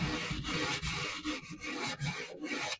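Rhythmic back-and-forth rasping as a folded abrasive mesh disc is rubbed by hand over wood, close and fairly quiet, with brief pauses between strokes.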